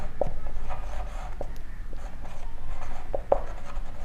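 Pen or marker writing out a set description on a board during a maths lesson, with short scratchy strokes over a steady background hum and no talk.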